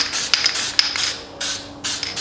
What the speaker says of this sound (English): spray the gasket down on both sides.